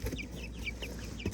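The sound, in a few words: chickens clucking in a winter coop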